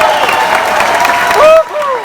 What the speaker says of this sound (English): if you want to applaud a little extra